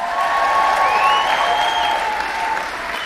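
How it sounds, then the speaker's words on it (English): Applause from a comedy show audience, steady clapping close and full for a few seconds, then easing slightly toward the end. "Give him a round of applause."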